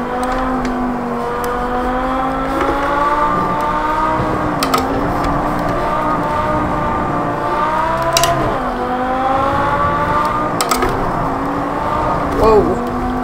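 Lamborghini Sesto Elemento engine in the racing game Project Cars 2 on the Nürburgring Nordschleife, a continuous high revving drone rising and dipping with gear shifts, close and loud, with someone talking over it.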